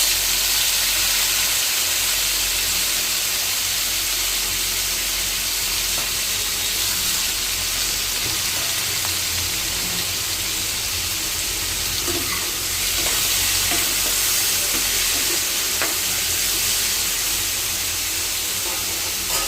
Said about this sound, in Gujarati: મરચાં થોડા સતરાઈ ગયા છે તો એમાં હવે આપણે ટામેટાં નાખી દઈશું